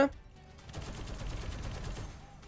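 Tank cannon and gunfire in the video game War Thunder, from an M1 KVT Abrams battle: a quick, fairly faint rattle of shots and distant booms lasting a couple of seconds.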